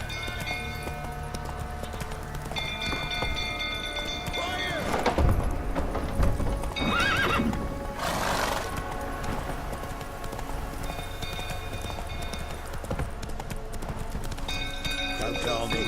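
A horse in The Witcher 3 video game gallops with rhythmic clip-clop hoofbeats and whinnies amid fire chaos at a burning stable, under frequent shouting voices and game music.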